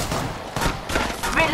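A few sharp gunshots ring out in the mobile battle royale game Apex Legends Mobile, loud, close bursts spaced over a second and a half amid game noise.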